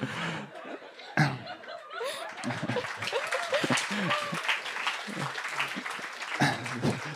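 A live audience at a couple's comedic stage talk applauds and laughs, with bursts of clapping and chuckles rising and falling over several seconds, a voice briefly heard among the crowd noise.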